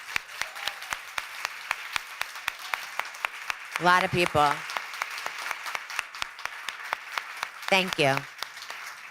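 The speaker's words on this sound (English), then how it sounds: "Let's give them a round of applause." Audience applauding survivors at a talk event, a sustained patter of many hands clapping at moderate distance, with a speaker briefly talking over it twice.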